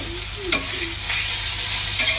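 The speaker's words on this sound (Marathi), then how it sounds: "टोमॅटो कांदा चांगला एकजीव करून 5 मिनिटं चांगला शिजवून घ्यायचा आहे।" A spoon stirs chopped tomato and onion frying in a pan with dried bombil fish, steady close sizzle under a few scraping strokes against the pan, with no voices.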